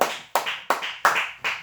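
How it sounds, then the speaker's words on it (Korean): A church congregation at a Saturday prayer-house service claps together in five sharp, evenly spaced bursts, each strike fading quickly before the next, loud and close with no talk. "박수를 쳐줘요"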